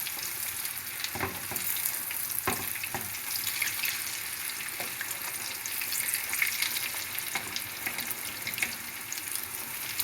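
Paçanga börek deep-frying in hot oil, a steady dense sizzle and crackle running throughout with a few sharper pops and clinks, close and fairly loud with no voices.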